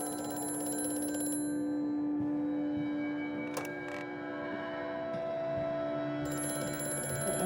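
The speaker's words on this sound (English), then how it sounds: "Answer the phone." An old telephone rings in the horror video game Amnesia: A Machine for Pigs, a steady bell ringing over a low droning hum, with a pause in the middle before the ringing resumes, alone with no talking.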